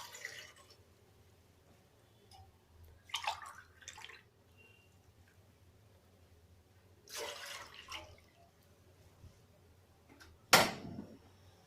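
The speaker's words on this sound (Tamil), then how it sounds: "இப்போ வந்து நான் வந்து பாத்திரத்துல 2 கிளாஸ் தண்ணி ஊத்திக்கிறேன்." Water is poured from a glass into a pot twice in short splashing bursts, then a final sharper splash, close and fairly quiet against a low background hum.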